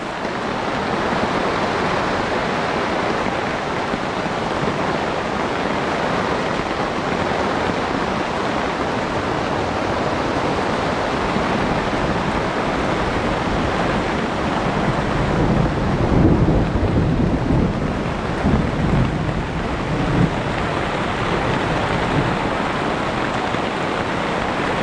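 A heavy mountain thunderstorm with rain, a dense steady downpour hiss with a low rumble of thunder swelling midway, heard alone with no talk.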